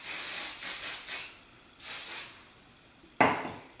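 Several short bursts of aerosol hairspray hissing close by onto the front of the hair, in quick puffs, then a pause, two more bursts and a final sharp spritz.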